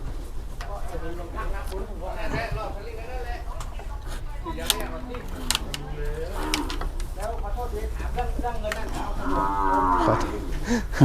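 Thai cattle lowing repeatedly at a busy cattle and buffalo market in Wang Prachop, Tak, with moos rising over steady crowd chatter and people talking close by, plus occasional bird coos.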